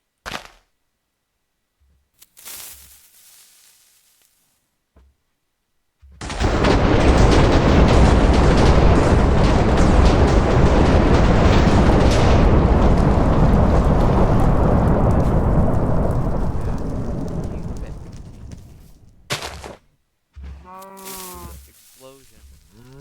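Lightning TNT from the Minecraft Lucky TNT mod going off: after a few soft game sounds, a loud, broad thunderous rumble crashes in and roars for about thirteen seconds before dying away, followed by brief game noises.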